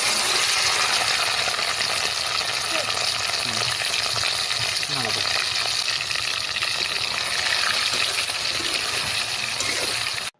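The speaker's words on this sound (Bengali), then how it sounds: "প্রথমে চিংড়ি মাছের শাঁসগুলো ভালো করে ধুয়ে লবণ এবং হলুদ মেখে হালকা ভেজে নিচ্ছি" Pieces of prawn coated in salt and turmeric fry in a pan with a loud, steady sizzle and crackle throughout, plus occasional clinks and stirring sounds.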